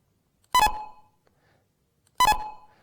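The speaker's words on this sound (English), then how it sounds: "You can actually hear, you can distinguish these 2 beeps" Two identical sharp electronic beeps, separated by a real-world Dallas-to-Milan round-trip telephone delay of about a second and a half, each ringing briefly before fading, clean and alone against silence.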